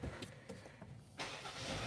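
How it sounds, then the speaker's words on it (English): A 2023 Kia Sportage X-Line starting up, with a few faint clicks and quiet cabin sounds before the engine catches about a second in, rising into a steady close hum with no talking. "I'm just going to have to turn on the car for a second"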